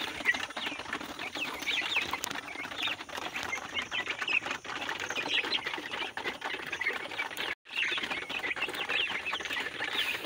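Koyla breed chickens, about 30 days old and plump, clucking and rustling together in a dense, continuous flock chatter with a brief gap near the end.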